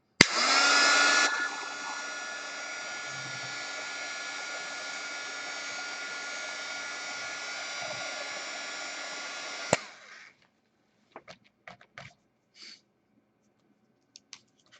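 A heat tool blows hot air onto a mixed-media art journal page in one steady, loud whoosh for about ten seconds, then cuts off, leaving a few faint clicks and handling taps.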